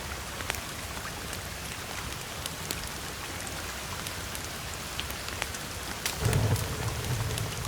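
Steady rain falls in the survival video game The Forest, a dense, even hiss with scattered drop clicks, and a low rumble swelling briefly near the end.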